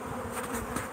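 Bees buzz around a cluttered backyard bee shed, a dense continuous hum holding steady and fairly close throughout.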